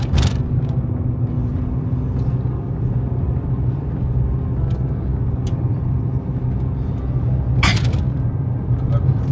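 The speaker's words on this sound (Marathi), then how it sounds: "आता आपण पार्किंग बघूया आणि गाडी पार्क करूया" A car pulling in to park at the foot of Shivneri fort, a steady low engine rumble close by with a couple of sharp clicks or cracks along the way.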